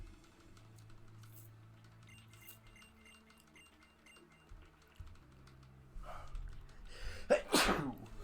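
A single close, loud sneeze near the end, following a quiet stretch of faint keyboard tapping and soft background noise.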